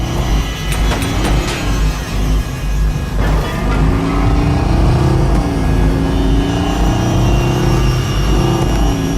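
A car in the video game Watch Dogs pulls away, its engine revving and droning steadily and loudly throughout, with a steady low rumble under changing engine pitch.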